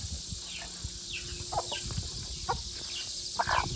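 A hen clucks and squawks in short agitated bursts after being caught, fairly near but quiet, over soft outdoor background noise.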